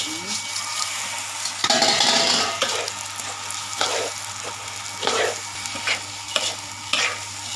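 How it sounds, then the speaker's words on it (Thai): Rice stir-fried in a pan with browned garlic, coriander root and ginger over a strong flame, a steady sizzle broken by repeated scraping strokes of a spatula against the pan, close and clear with no talk. "พอเหลืองแล้วเราก็ใส่ข้าวไปผัด"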